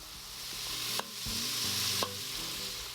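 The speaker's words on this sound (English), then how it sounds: "And we're going to saute the onion a little bit." Onion sautéing in hot oil in an Instant Pot, a soft steady sizzle with two sharp clicks of a utensil and a low electronic hum beneath, no talking.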